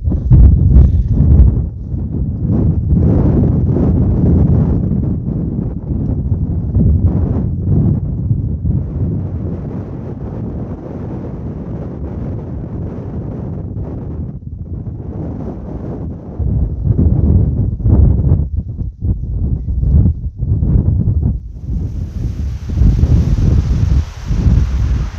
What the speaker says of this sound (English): It's still very windy though, isn't it?